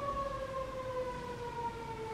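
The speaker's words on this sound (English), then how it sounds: "there's always an ambulance" Ambulance siren wailing outside at a moderate distance, a steady sustained tone drifting slowly down in pitch, heard alone without talk.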